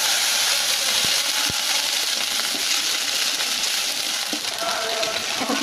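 Ginger-cumin paste frying with black cumin, radhuni, white cumin and bay leaves in hot oil in a wok, a loud continuous hissing sizzle with a couple of faint knocks, close and without talk.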